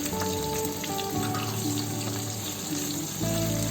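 Chopped ginger and garlic fry in a pan for malai kofta, a dense continuous sizzle with light stirring, loud and close, rising briefly at the end.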